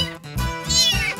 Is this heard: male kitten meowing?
yes